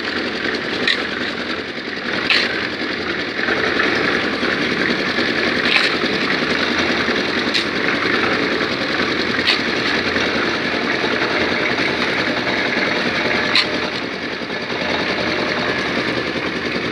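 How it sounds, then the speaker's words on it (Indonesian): A cement mixer drum churns sand and water in a steady, dense mechanical roar with faint periodic clanks, continuous and close throughout. "kemudian nanti diaduk di mesin molen ditambah air"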